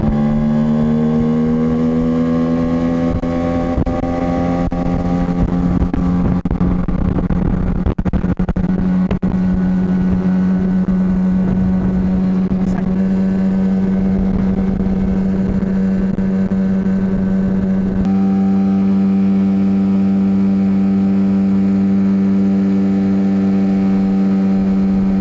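Small boat powered by a Tohatsu 9.8 outboard motor carrying two people at speed, a loud steady droning engine whine that climbs in pitch at first, then holds constant, with water and wind rush underneath.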